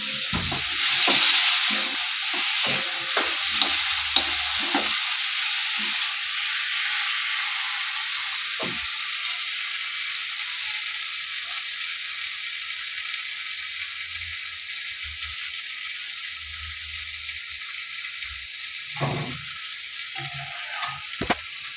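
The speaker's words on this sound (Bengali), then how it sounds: "আরও মিনিট 10 ধরে আমি আলুর সাথে এই মশলাটাকে কষাতে থাকবো।" Potatoes being sautéed with spices in a pan for paneer dalna, with steady sizzling and frying plus repeated stirring scrapes early on and a few more near the end, heard alone without talk.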